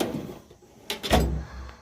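A big drawer on a Snap-On home garage tool box slides open with a short metallic rattle and ends in a solid thunk, close by.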